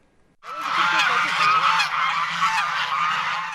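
A flock of Kars geese in Turkey honks loudly together, a dense overlapping chorus that starts suddenly and continues without pause.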